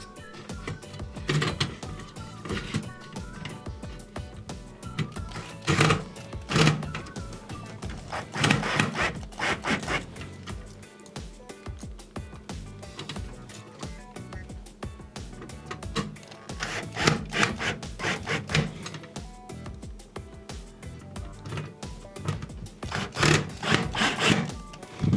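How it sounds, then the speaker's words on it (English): Screws are driven to fasten an oven's control board onto a new bracket during an Ikea oven repair, with repeated scraping, grinding bursts and handling clatter at close range. "we're going to secure it with 3 screws"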